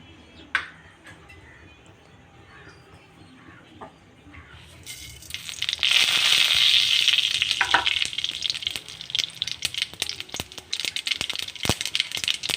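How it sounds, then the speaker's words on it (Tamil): Mustard seeds splutter in hot oil after a few faint clinks, swelling into loud, continuous crackling and popping with sharp individual pops near the end. "கடுகு பொரியட்டும்."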